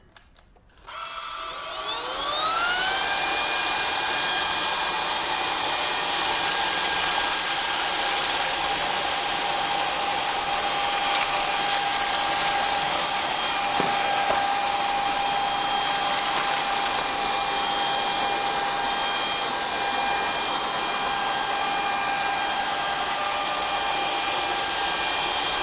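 A Proscenic P9 cordless stick vacuum cleaner spins up and runs steadily with a loud, constant high-pitched motor whine, close by and with no talking.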